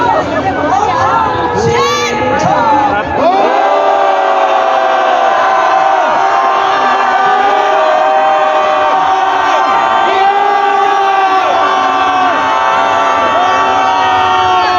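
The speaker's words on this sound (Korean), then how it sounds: "분노의 함성을 외쳐보겠습니다" A large crowd at an outdoor political protest rally in Korea, demanding the president's resignation, raises loud, sustained angry shouts in unison. The massed voices stay near and unbroken for about fifteen seconds.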